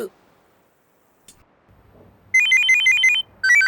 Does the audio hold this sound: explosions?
no